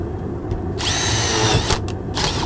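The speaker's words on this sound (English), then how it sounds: "Just grab me a nice little self-tapper," A power drill drives a self-tapping screw in a crawlspace furnace job: a short, loud high-pitched whine lasting about a second, followed by two brief bursts, heard up close with no talk.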